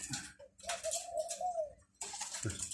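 A caged dove coos in a long, steady call, with a shorter coo after a brief pause, close and clear amid light ticking and other bird noises.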